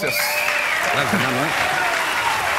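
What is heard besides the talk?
audience applause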